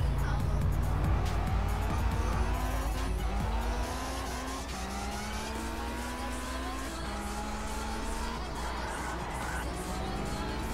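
Car braking in the racing game Test Drive Unlimited, engine drone and tire noise with a brief squeal of braking, steady and loud throughout with synthetic game audio and a player voice faintly under it.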